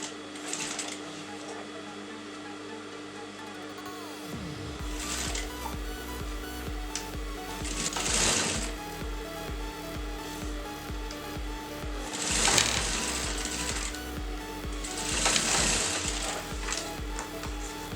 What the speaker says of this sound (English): the first time you're going to sew to the outer edge to give the exact shape